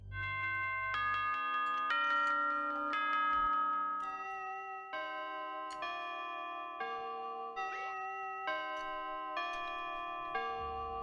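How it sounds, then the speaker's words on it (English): Grandfather clock chime from the Five Nights at Freddy's video game, a sequence of bright, ringing bell tones playing a repeated melody, each strike sustaining and overlapping, loud and close with no talk. "A grandfather clock chiming the same song every time."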